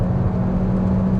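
A 2012 Citroen DS4 with the THP engine holds a steady, close engine drone with a low whirring hum, running in fourth gear at about 3,500 rpm with the manual option selected.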